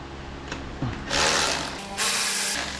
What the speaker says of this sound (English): Pull out these breather bolts.